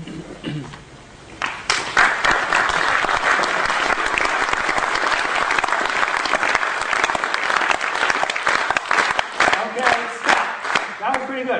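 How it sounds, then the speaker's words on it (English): A lecture audience claps together in a steady rhythm after a quiet start, many hands striking in quick, closely spaced beats that stay loud for about ten seconds before thinning out. "every group claps at a different rhythm"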